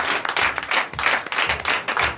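A church congregation claps in quick, uneven bursts during a Sunday worship and teaching service in Comè, Benin, acclaiming Jesus. The clapping is loud and close, with no voices over it.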